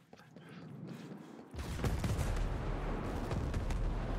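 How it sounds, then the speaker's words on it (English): Artillery strikes in Ghost Recon Breakpoint, a heavy impact that breaks in after a quieter start and leads into sustained loud rumbling, crackling fire and scattered blasts. "It's just that artillery strikes against us, like, it's on fire."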